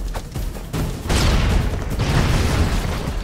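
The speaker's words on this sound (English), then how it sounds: "These explosions are nuts." Loud, dense bursts of explosions and gunfire-like booms from the side-scrolling action game Broforce, starting with sharp pops and then swelling into a continuous roaring blast that fills the whole stretch.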